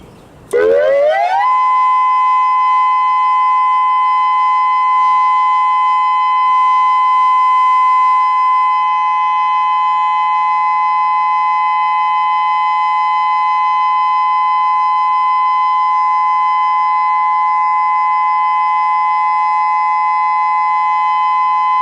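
An outdoor civil defense siren, a Modulator 6024B at Salt Lake District Park, winds up quickly during a test, then holds a loud, steady wailing tone for a long stretch without fading.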